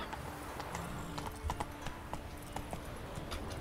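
Geralt's horse Roach trotting in the video game Witcher III: a steady clip-clop of hooves at a moderate pace, fairly faint under ambient game sound.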